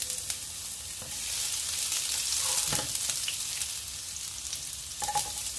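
Garlic fries in a pan for a Filipino sautéed mussel dish with ginger, giving a steady, close, crackling sizzle that swells and fades slightly, with a few soft clinks of utensils and no talking.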